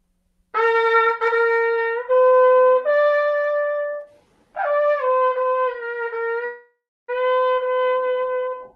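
A wooden, leather-wrapped, lip-buzzed horn sounds alone in long, buzzy held notes. Four separate phrases, each stepping between a few pitches with short pauses between them.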